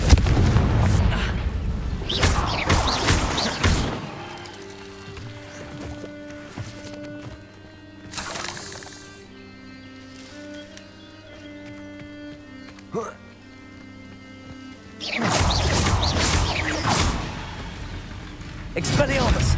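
Diffindo spell cast in the Hogwarts Legacy video game, a burst of whooshing and booming effects that opens and closes the stretch, between which tonal game music plays with scattered impacts.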